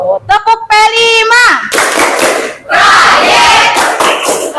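A class of children shouts a rhythmic clapping chant in unison with sharp claps, then bursts into loud, cheering noise that carries to the end.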